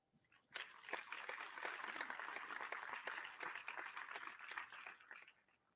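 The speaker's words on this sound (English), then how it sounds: "please give a round of applause for the 7th grade boys participants" Audience applause at a school athletics awards ceremony, breaking out suddenly and holding as a steady, fairly distant patter of many hands, faint overall and tapering off at the end.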